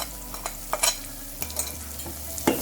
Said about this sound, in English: add the grinded paste and cook till it leaves the oil